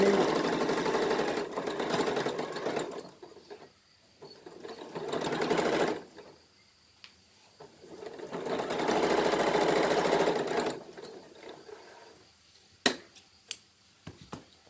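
A Janome DC 3050 portable sewing machine stitches lace in two long steady runs, each a few seconds of loud, close buzzing. Quieter pauses fall between the runs, with a few sharp clicks near the end.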